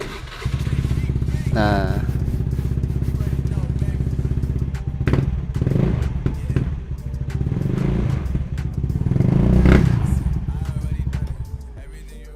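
A Honda BeAT FI scooter with a fitted fuel pressure regulator starts with a brief starter whirr, then settles into a steady close idle with thumps and clatter, while a voice speaks briefly.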